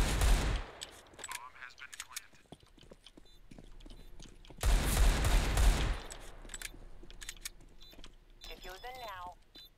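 Desert Eagle pistol shots in the video game CS:GO, several sharp reports spread across the clip alongside other game noise, with a burst of louder firing midway and a voice talking at times.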